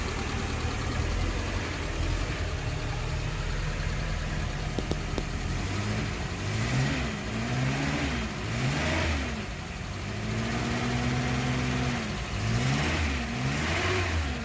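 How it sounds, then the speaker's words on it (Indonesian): Suzuki Carry pickup engine running steadily, then revving up and down in several rising and falling sweeps, close and fairly loud with no talking. "ini untuk suara mesinnya masih mantap, suara mesinnya masih lumayan halus."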